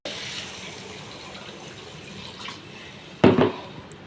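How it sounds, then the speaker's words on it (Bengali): Water poured into fish curry simmering in a pan with potatoes and whole green chillies, a soft steady trickle that ends in a sudden louder splashing gush near the close. "এবারে জল দিয়ে দেবো মাছের ঝোলে।"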